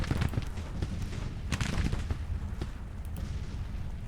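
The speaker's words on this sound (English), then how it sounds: "Maybe one more shot with Longstreet" Artillery fire in a Civil War strategy game: a rapid jumble of dull booms and cracking reports, some close and loud, others distant, rolling continuously with no talk.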